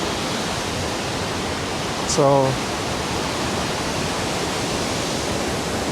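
A waterfall on a creek running at a substantial volume roars steadily and evenly, a dense wash of falling water with a single short spoken word over it.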